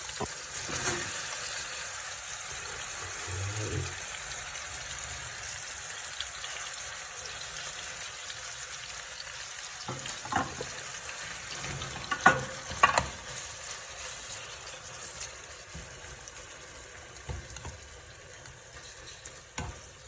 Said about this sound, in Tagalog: Ilalagay natin itong ating corned beef.